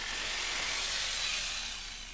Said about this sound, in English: Then with the jigsaw, cut down the length of the board.